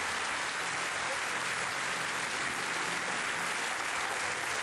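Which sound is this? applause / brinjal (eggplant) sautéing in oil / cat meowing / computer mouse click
applause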